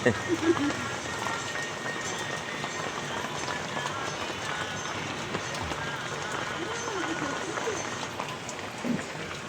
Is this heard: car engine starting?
no